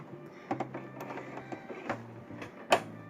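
Sewing machine stitches fabric for a removable chair seat cover, a quiet, rapid mechanical whirr with small clicks and a couple of sharper knocks, close and faint.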